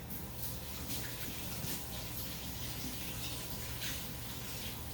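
Water runs continuously from a kitchen sink sprayer, a steady, even rush of spray held at one level for the whole stretch with no talking.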